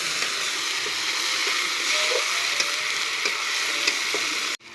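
Garlic and cumin seeds fry in a pan with a steady, close broadband sizzle, broken by a few light clicks of stirring, and it cuts off abruptly near the end.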